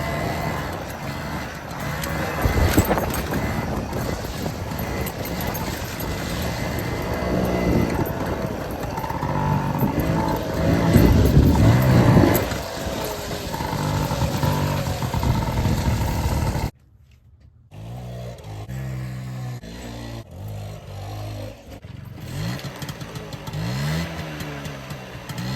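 A 1978 Honda Hobbit moped engine revving on a rainy ride, a buzzing small motor rising and falling in pitch with surging throttle bursts, then a sudden cut and restart into choppier idling and revs.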